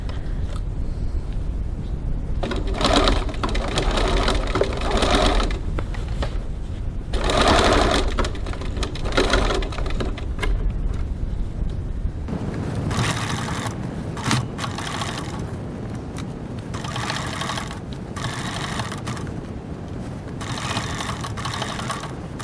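A sewing machine stitches a seam on a crossbody bag, running loud and close in long, nearly continuous passes with a few brief changes in pace.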